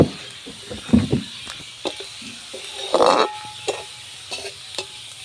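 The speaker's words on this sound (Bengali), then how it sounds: "এই যে অল্প অল্প করে ভেজে নেব।" Thin potato shreds deep-fry a little at a time in a wok for crisp jhuri alu bhaja. Intermittent bursts of bubbling sizzle alternate with stirring scrapes, close and moderately loud, with quieter gaps between.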